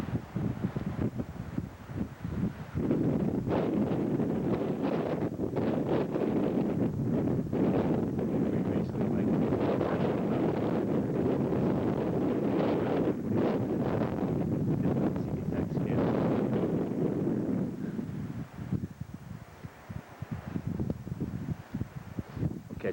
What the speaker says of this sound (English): You can hear the wind blowing, gusting to,